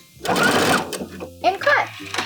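A sewing machine backstitches the stretchy fabric of a bathing suit in short bursts, its whirring stitching mixed with a voice talking over it at close range.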